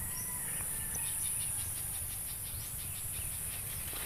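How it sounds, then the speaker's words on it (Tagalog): A bird calls outdoors with faint, repeated high chirps at a steady pace, set against a constant hiss of insects and ambient noise. "Nandiyan pa rin ibon mga kasinag."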